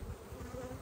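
Honey bees hum at an open hive, a dense, steady buzz close by with a gently pulsing drone and no voices over it.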